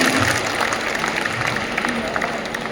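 Audience applause at a business gathering honoring leadership, a dense, steady wash of many hands clapping from a crowd, sustained evenly without a break.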